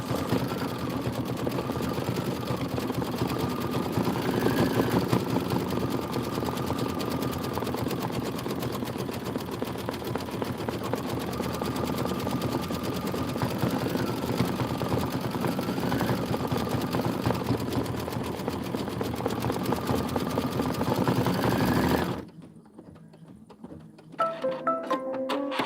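A sewing machine stitches out a Kimberbell County Blooms pillow embroidery, a fast continuous mechanical whirring and tapping that runs steadily for most of the time and then stops abruptly near the end, leaving faint room sound.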